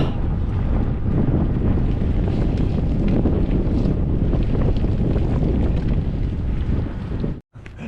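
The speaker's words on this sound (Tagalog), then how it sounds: "Lamig no, lamig ng hangin, Lamig. pasalubong yung hangin." Heavy, roaring wind buffeting the microphone nonstop on a farm in Canada, a dense rumbling rush that cuts out abruptly near the end.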